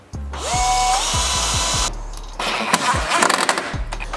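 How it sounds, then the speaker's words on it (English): A power drill whirs loudly in close, stop-start bursts while drilling holes to fit a carbon fibre kit on a BMW F83 M4, its motor revving up and cutting off several times with clicking between runs. "you just need to drill your holes through here"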